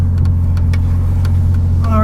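A 1977 Toyota Celica Liftback fitted with a 1JZ engine rumbles loudly and steadily at low pitch as it moves off, with a few faint clicks and a brief tonal chirp at the end.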